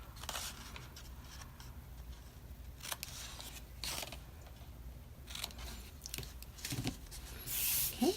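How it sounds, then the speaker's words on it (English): Scissors snip the corners off a small paper treat bag in a quiet room, a handful of short crisp cuts spread across the stretch with soft paper handling between them and a louder rustle near the end. "we're going to cut a little bit off of each corner just to make it easier to put together"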